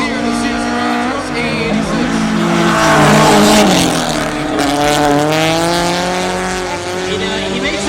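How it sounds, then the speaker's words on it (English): A Toyota Corolla drift car slides sideways in a drift finals competition, its engine roaring loud and sustained with harmonic revs rising and falling, tires squealing throughout, under and alongside speech. "so much clutching and e-braking and like so much action happening in that Corolla to keep that thing sideways"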